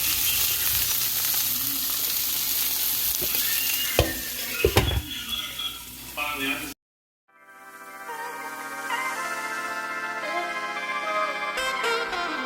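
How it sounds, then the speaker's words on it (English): Tomatoes sauté in a hot pan with a little salt and oil, giving a loud, dense sizzle with a few sharp crackles and pops for about seven seconds before it cuts abruptly to a quieter, tonal passage. "So I'm going to saute these up in a pan with a little salt, a little oil until they burst."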